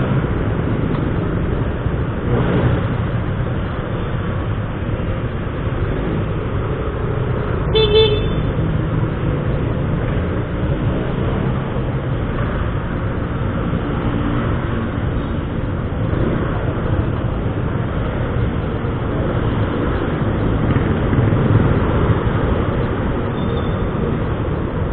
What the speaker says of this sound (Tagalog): Ayan o, bumper to bumper na yung traffic.